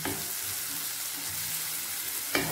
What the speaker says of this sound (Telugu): వీటన్నిటిని బాగా వేయించుకోవాలి,